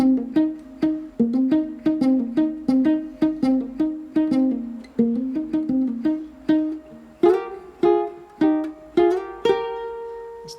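Ukulele picking the interlude riff of a song, a bright plucked melody in quick rhythmic bursts of single notes, ending with a few ringing strums, close and solo with no voice.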